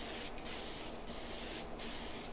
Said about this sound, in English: So it's just going to be simply spraying back and forth.